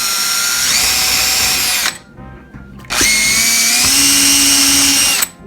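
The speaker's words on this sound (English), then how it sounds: "we're going to drill right through here into the pallet wood in the clock" Power drill boring through pallet wood for a wooden wall clock, two loud sustained whining bursts close up with a short pause between them, the motor pitch shifting as the bit bites.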